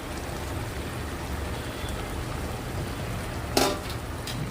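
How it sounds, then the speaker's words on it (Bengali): Shrimp go into bottle gourd curry frying in a pan, with a dense, steady sizzle throughout and one brief louder crackle near the end. "বন্ধুরা এবার আমি চিংড়ি মাছগুলো দিয়ে দিচ্ছি"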